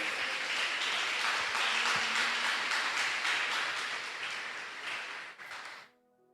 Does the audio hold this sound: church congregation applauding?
yes